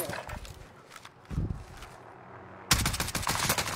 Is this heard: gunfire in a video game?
yes